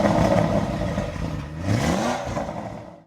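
Audi RS8 engine idling with a steady low rumble, then briefly revving up in a rising sweep before settling back, loud and close throughout.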